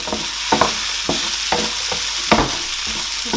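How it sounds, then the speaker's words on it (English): Chopped onions and celery fry in a pot, giving a steady close sizzle broken by repeated scraping and clinking stir strokes at an irregular pace, with no talking. "I'm going to fry my celery as well."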